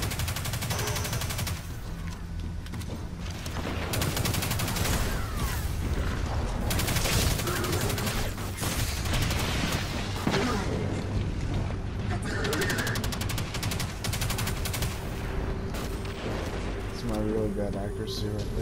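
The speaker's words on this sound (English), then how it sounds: "No, this is a submachine gun." Rapid bursts from the Risk Runner exotic submachine gun in Destiny 2, crackling in dense volleys with booming impacts throughout, loud and sustained, with a voice talking over the shooting.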